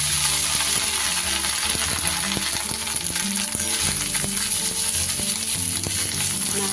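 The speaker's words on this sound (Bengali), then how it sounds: "নারকেল কোড়াটা খুব ভালো করে ভেজে নিই।" Grated coconut fries in a wok over a tempering of dried red chillies and bay leaves, giving a steady, close sizzle with scattered crackles and light stirring scrapes throughout.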